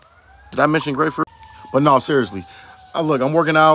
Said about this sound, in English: Sorry about the sirens in the background